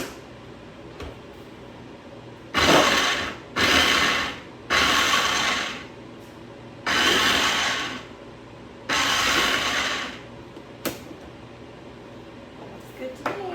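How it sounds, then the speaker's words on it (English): An electric twist-and-chop food processor chops vegetables in a home kitchen, running in five short loud bursts of a second or so each with brief quiet gaps between. "I'm just going to use a food processor because I got a few things that I'm chopping"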